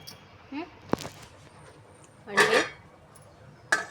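Metal cookware clinks and clatters as a steamer sieve is placed on a pot, in a few brief knocks, one sharp tap and a louder rattling scrape, with a voice speaking between them.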